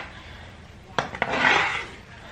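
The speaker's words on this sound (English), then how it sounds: "it says just to stir this up and then to put it on simmer" A spoon stirs a pot of food on the stove: two quick knocks against the rim, then a soft, close scraping swirl lasting under a second.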